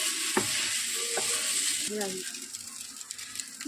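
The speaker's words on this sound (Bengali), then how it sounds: "মশলাগুলো দিয়ে দেওয়ার পর এবারে ভালোভাবে নাড়িয়ে চাড়িয়ে নেব।" Maggi noodles with masala are stirred in a pan, producing a bright hiss of frying with a few clanking scrapes and rattles of the utensil, close by, fading to lighter scraping near the end.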